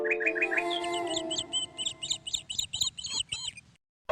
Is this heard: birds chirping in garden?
yes